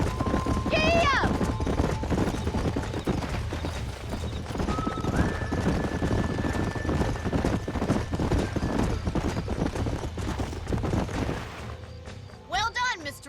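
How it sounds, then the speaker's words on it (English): Horses clip-clopping at a steady walk in Red Dead Redemption, with a whinny near the start and another near the end, while characters talk over the hoofbeats. "These are fine horses."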